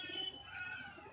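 Pigeons held for sale give a short, faint cooing call with soft chirps, alone and quiet.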